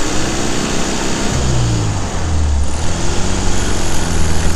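A small air-cooled VW Beetle engine runs nearby with a steady, buzzy rattle, its pitch dipping briefly and rising again.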